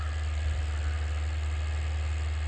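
A YTO 804 tractor engine running steadily, a low, throbbing diesel drone with constant vibration, close and even with no talking over it.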